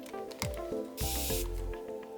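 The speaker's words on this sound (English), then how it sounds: "And you can hear how long I sprayed it." A spray bottle mists water onto a hand-carved watercolor stamp in a burst of about half a second, close and clear, amid soft handling noises and a faint tonal hum.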